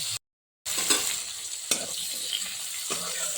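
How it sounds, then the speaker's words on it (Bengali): Soaked dried mango pieces (amchur) stirred in a pan for a sour Bengali dal bori dish, with a steady soft sizzle and scraping stir strokes, a brief silent gap near the start and a few sharper clicks. "আমশিগুলো ভিজিয়ে রেখেছিলাম দিয়ে দিই দিয়ে একটু নাড়াচাড়া করি"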